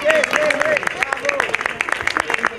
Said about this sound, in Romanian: aș vrea să le aplaudăm pe fete